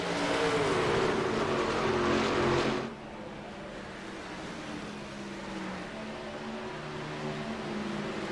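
Race cars roar past on an oval track at Iowa, a loud rushing engine sweep that cuts off sharply near three seconds, leaving a fainter steady drone of more distant cars.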